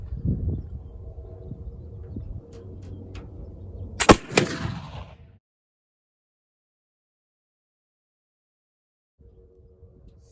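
.54 caliber Kibler Colonial muzzleloader rifle fired once at a range, a single loud sharp blast with a short echoing tail, following a stretch of low rumbling background, then silence.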